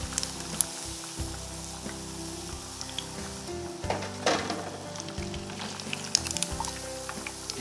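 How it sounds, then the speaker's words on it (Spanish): Buñuelos de viento, a fried dough fritter from Ecuador, bubbling in hot oil with a steady soft sizzle, punctuated by a few brief clinks and stirring sounds, no voices. "más o menos el tiempo para freír, para que quede bien cocinado"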